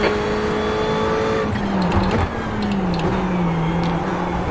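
Ferrari GT3 race car engine in iRacing at Lime Rock Park, a steady high-revving drone that dips and climbs through a corner with a brief downshift blip, close and loud with no voices.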